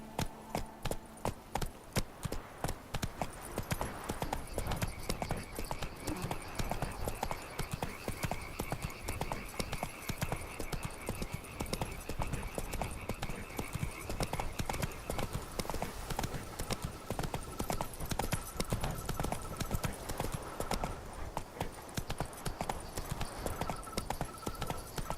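The horse Roach gallops in The Witcher 3, a fast, regular clip-clop of hooves that runs near and steady throughout, with a brief snort or whinny and a little talking.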